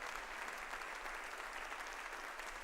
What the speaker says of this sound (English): And applause there for Pope Francis as he leaves the chapel